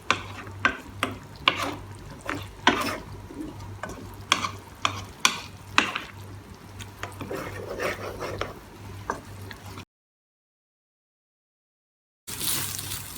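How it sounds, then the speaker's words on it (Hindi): Mutton coated in masala is stir-fried in a pot for a traditional salted bhuna gosht, with steady sizzling and repeated close scraping strokes of a spoon, then a short silence before the sizzle returns. "मैं इसको 10 मिनट तक भूनूंगी। अच्छे से इसकी भुनाई करनी है आपने, कि मसाला गोश्त के अंदर रच जाए।"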